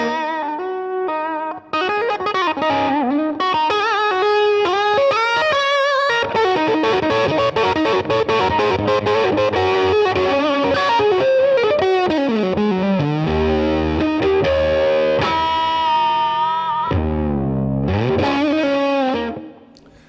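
A distorted electric guitar played through a Laney VC30-112 amplifier, loud and continuous, with sustained chords and melodic runs and a chorus-like shimmer.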